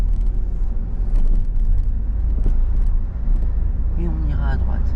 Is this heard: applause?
no